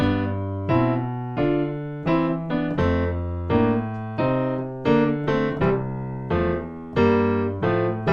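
A bouncy boogie woogie piano riff plays alone, steady rolling bass under bright chords, with a quick accented chord jabbed on the and of 4 just before each new phrase.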